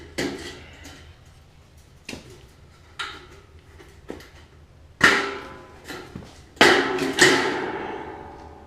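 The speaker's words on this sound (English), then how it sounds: "So I'll go ahead and rivet that one together" Sheet metal panels for a DIY powder coating oven are riveted together with sharp, close metallic snaps, one at a time at irregular intervals, each followed by a short ringing decay, with no talk.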